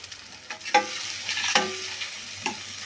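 Masala with coriander and kuzhambu powder sautés in a pan, a soft continuous sizzle broken by a few sharp scraping stirs of a spoon, heard up close with no voices.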